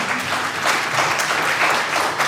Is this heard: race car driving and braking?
no